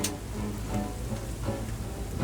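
Steady rain drumming on a sailboat during a squall in the Singapore and Malacca Straits, a dense continuous patter with louder drops, alone without voices.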